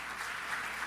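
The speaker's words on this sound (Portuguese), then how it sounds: "Você pode aplaudir o Senhor." A church congregation claps in a short, steady burst of applause, fairly soft and even throughout.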